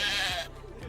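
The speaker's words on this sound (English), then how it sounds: "Megan actually adopted a sheep named Bob" A single sheep gives a short, close bleat, tonal and wavering, that fades out after half a second into quiet.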